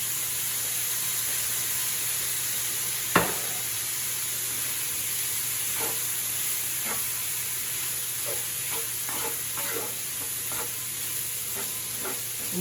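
Corned beef hash with peppers fries steadily in a pan, a constant close sizzle broken by one sharp clack and scattered scrapes and taps of a utensil stirring.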